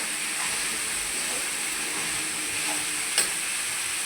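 Snake gourd and chilli fry in a pan with a continuous, even sizzle, plus one brief sharp clatter partway through.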